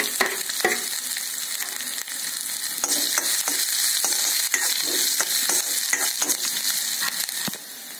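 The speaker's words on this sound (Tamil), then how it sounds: "இப்ப கடுகு வெடிச்சிருச்சு, உளுத்தம்பருப்பு சேர்ந்துருச்சு." Mustard seeds and urad dal lentils sizzle and crackle in hot oil, with sharp pops scattered over a steady frying hiss.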